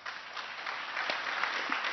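An audience at an economy teach-in applauds a panel, steady mid-distance clapping heard faintly but continuously throughout.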